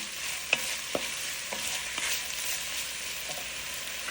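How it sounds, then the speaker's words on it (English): Duck roast ingredients sautéing with salt in a pan for a Kerala style dish, a steady broadband sizzle with a few soft spatula scrapes and taps scattered through, close and moderately loud. "saute it until it's soft and brown"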